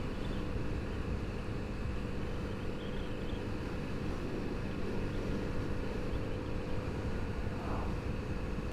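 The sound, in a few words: Kawasaki Z900RS motorcycle engine in top gear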